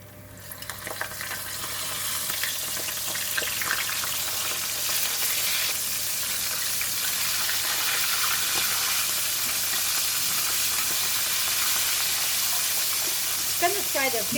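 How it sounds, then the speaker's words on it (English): Flour-dusted mackerel (ikan kembung) frying in a pan gives a loud, dense, continuous sizzling hiss that holds steady to the end, with a faint spattering crackle early on. "And then we're going to fry the fish."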